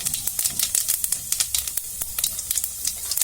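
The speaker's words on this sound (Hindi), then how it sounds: "तेल भी गर्म हो चुकी है। अब इसमें मैं जीरा डालूंगी" Cumin seeds crackle and sizzle in hot oil for a curry pakoda dish, a dense steady frying hiss with sharp popping bursts throughout, close and fairly loud with no voices.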